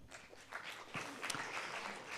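Faint, thin applause from a morning audience at a Marseille cruise-industry conference, scattered hands clapping at low volume for a couple of seconds.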